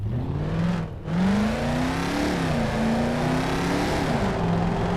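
A Mercedes truck engine in Euro Truck Simulator 2 roars steadily at 220 km/h, its drone rising and falling slightly with throttle and a short dip near the start, loud and continuous with no talk.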